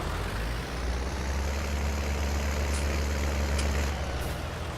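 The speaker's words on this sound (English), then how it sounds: "Probably doesn't help that I've just left the tractor in the middle of the road, engine running." A farm tractor left running in the middle of a road, idling as a steady low diesel rumble that stays level and close throughout, with no talk.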